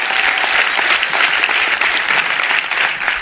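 A church congregation bursts into loud, dense applause during a sermon, sustained clapping close and continuous from start to end, with no talk over it.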